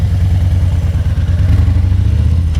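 A 2018 Harley-Davidson Fat Boy 114 with a tuned aftermarket muffler idles and rumbles with a deep, heavy, drum-like exhaust pulse, loud and close, throbbing steadily with no voices.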